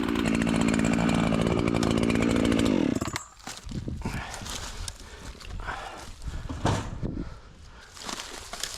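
Big ECHO 7310 chainsaw revving loudly for about three seconds, then cutting out. Irregular knocks and rustling follow, like wood and gear being handled nearby, with no voices.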